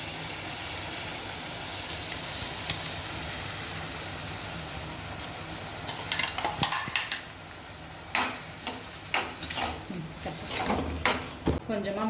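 A paste of onion, tomato, mint and coriander fries in a pan of mushroom gravy with a steady sizzle, and sharp scraping stirs break in repeatedly toward the end.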